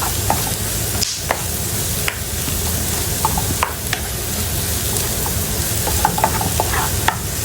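Garlic frying in hot oil alongside peanuts while being stirred: a steady close sizzle with scattered scraping clinks of the spoon against the pan, no voices.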